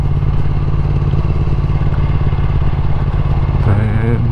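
Motorcycles, including a Ducati Multistrada 1200S, rumble loudly and steadily at close range at a season-opening gathering, the engine note holding constant before a brief change near the end.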